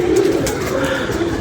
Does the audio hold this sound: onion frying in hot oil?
no